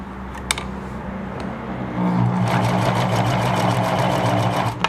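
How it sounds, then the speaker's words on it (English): A Singer 1036 sewing machine starts up, a few clicks and a faint hum before it settles into a fast, steady mechanical stitching whir that runs on close and continuous. "there we go, and it starts stitching again"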